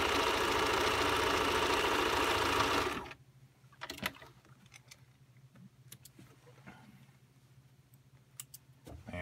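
Home sewing machine stitching a seam in production style, a loud steady close whir for about three seconds that stops abruptly, leaving a quiet low hum with scattered light clicks and handling taps.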